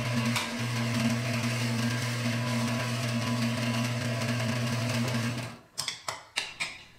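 A power drill bores mounting holes in blocks for a truck camper roller centering device, a steady loud motor whine running for about five seconds before cutting off, followed by a few sharp knocks and clatters.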